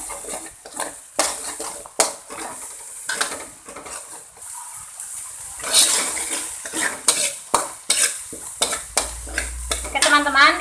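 Spice paste with salam leaves, kaffir lime leaves and lemongrass sautés in a wok, with close, rhythmic spatula scrapes and clinks over a soft sizzle and brief loud bursts of frying.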